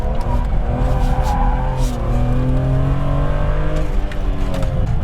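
A BMW E46 M3 power drifts with its engine droning hard at steady high revs, loud and close, and tyre noise runs beneath it with no talking.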